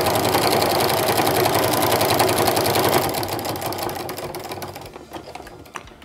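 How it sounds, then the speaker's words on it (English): A sewing machine stitches a round quilted rug, running fast with a dense rapid needle chatter, close and loud, then slowing into separate stitches before stopping. "I'm gonna reinforce the stitches by sewing backward and forward"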